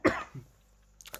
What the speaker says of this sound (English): if you hear me coughing in the background, I do apologise.